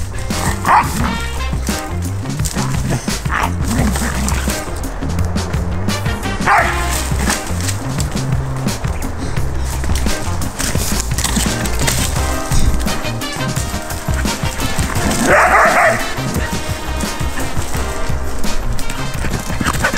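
Dogs bark loudly and repeatedly on a walk in a forest beside a home, sharp close woofs and yips recurring throughout over a dense, busy outdoor background.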